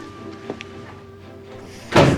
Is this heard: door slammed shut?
yes